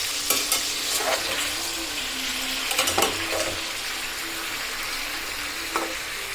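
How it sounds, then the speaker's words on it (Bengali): Onions, garlic and green chilies frying in oil in a pan, with a dense continuous sizzle and several scraping stirs and spatula clinks against the pan, close and fairly loud, no talking. "এগুলো একটু তেলে ভেজে ফেলবো।"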